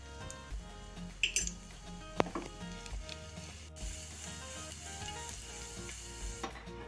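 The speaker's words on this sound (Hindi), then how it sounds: "लहसुन भून लेंगे।" Finely minced garlic fries in hot oil in a pan, giving a steady low sizzle broken by occasional utensil clinks and stirring, faint and close with no talk.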